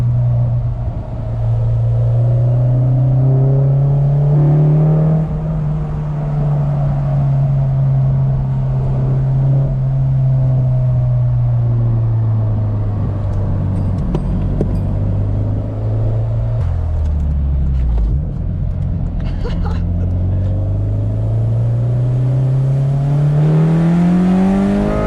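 A Honda Civic Si FG2 with a K24 engine swap drives on back roads, its engine droning steadily from inside the car, rising and falling through shifts, with a deeper lull near the end before revving back up.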